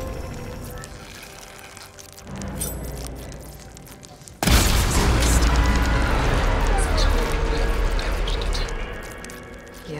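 A shot hits the coupling on a machine's arm in Horizon Forbidden West, and a sudden loud crashing impact follows, giving way to a sustained rumbling, clattering collapse that stays loud for several seconds before easing slightly.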